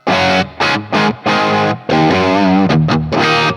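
Electric guitar through an overdrive pedal, amp gain turned up, playing short chords with brief gaps, then sustained ringing notes; crunchy, loud and close.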